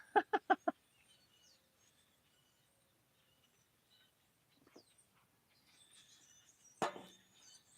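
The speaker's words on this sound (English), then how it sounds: "the birds are just going crazy there" A quick burst of four bird chirps, then sparse quiet calls and a louder harsh call near the end, outdoors with faint background noise.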